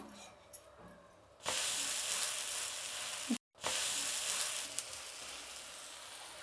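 Uttapam sizzles loudly in oil on a hot pan after being flipped to its second side, a steady bright frying hiss that starts suddenly and continues with one brief cut.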